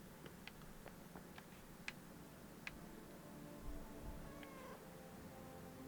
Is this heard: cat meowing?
yes